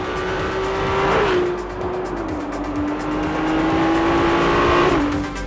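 A Ferrari 296 GTB with its twin-turbo hybrid V6 revs hard and alone, the engine note climbing, dipping briefly at gear changes, then rising again in a loud, close, sustained howl.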